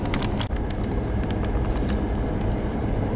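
Car driving through Matheson Hammock past the mangroves, a steady rumbling road and engine noise heard from inside, continuous and fairly loud, with faint clicks and taps scattered through it.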